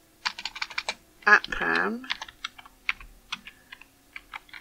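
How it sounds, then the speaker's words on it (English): Rapid typing on a computer keyboard, close and fairly loud, with irregular clusters of key clicks running throughout and a brief stretch of speech partway through. "It'd help if I could type."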